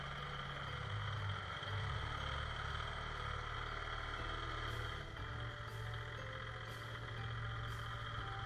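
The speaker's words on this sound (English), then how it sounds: "Then I used the tractor to tip the bale up on end." A farm tractor engine runs steadily while tipping a hay bale on end in a tight pen, a low continuous hum with a few faint brief clanks toward the end.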